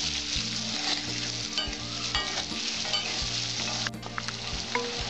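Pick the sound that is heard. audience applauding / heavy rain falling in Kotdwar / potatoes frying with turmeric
potatoes frying with turmeric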